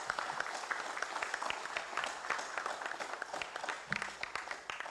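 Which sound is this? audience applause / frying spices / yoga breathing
audience applause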